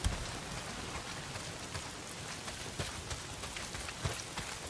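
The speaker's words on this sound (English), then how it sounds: "Well, not if it's pissing down rain." Heavy rain pours down in the game Days Gone, a dense, steady hiss of drops hitting surfaces with a few sharper splashes standing out now and then.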